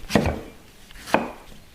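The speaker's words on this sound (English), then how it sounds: "You want to just give it a rough chop because we're going to add it into the blender" Two sharp knife chops through a pear on a cutting board, close and crisp, the first a quick double strike, the second a single knock about a second later.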